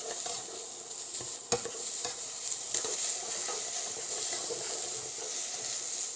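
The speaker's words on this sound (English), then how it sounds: "we'll just give it a stir around. You just want to get a bit of brown color" Onions browning in a pot for beef stew, a constant bright sizzle up close with a few knocks and scrapes of a stirring spoon.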